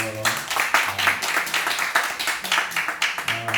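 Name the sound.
congregation applause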